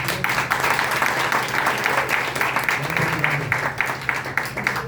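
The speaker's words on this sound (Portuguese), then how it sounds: "eu queria terminar pedindo para vocês uma salva de palmas para nossos amigos" Sustained audience applause in an indoor hall, dense rapid clapping held at a steady level throughout, with faint voices in the room beneath it.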